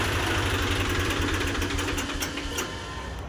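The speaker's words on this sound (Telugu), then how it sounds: "ఈ విధంగా ఇంజన్ ఆఫ్ అయిపోవాలి" A Swaraj 735 tractor engine idles with a steady low chugging rumble close by, then begins to wind down near the end as it stalls with the air cleaner blocked.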